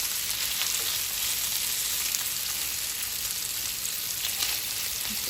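Sausages fry in a pan with a steady, close hiss of sizzling fat and occasional small pops, even and continuous throughout with no voices.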